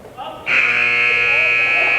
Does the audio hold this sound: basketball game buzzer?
yes